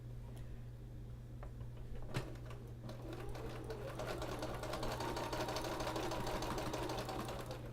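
Sewing machine quilting fabric, a steady fast mechanical stitching hum that rises slightly in intensity as it runs continuously, close and moderate, with a brief click near the start.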